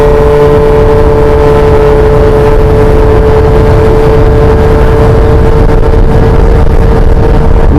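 A Yamaha Jog scooter ridden hard with the throttle open, its small engine whining loud and continuous with a steady high tone, close to the microphone with some wind buffeting.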